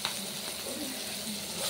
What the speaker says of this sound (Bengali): একটু শুকনো লঙ্কা আর জিরে ফোড়ন দিয়েছি, ভাজবো।